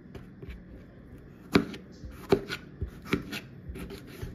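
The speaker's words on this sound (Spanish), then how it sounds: "Y así vamos a cortar todo el pimiento morrón." A knife cuts a bell pepper into strips on a board, sharp irregular chopping taps and crunches up close, several distinct strikes over a quiet background.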